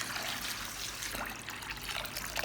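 Clean water pouring into a bowl of green beans soaked with salt and baking soda, a steady close trickle and splash running throughout.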